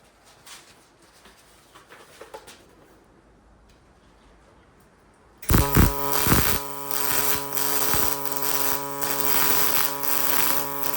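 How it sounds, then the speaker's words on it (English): Pulse MIG welder laying beads on the steel tube frame of a bending cart, a steady loud buzzing crackle that starts abruptly about halfway through after a quieter stretch of shop noise. "This pulse MIG's really nice. As you can tell, there's barely any sparks"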